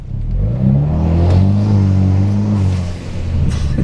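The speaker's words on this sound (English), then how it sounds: "The exhaust in this car is starting to come along. I mean, it sounds a hell of a lot better than stock." A Hyundai Veloster with its catalytic converter removed revs its exhaust, giving a loud, close, deep droning rumble that swells and holds before easing off and rising again, with no talking.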